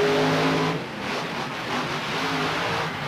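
The Grave Digger monster truck's engine roars loudly at a long-distance ramp jump contest. The broad, rumbling revving stays up close and steady, with a slight dip partway through.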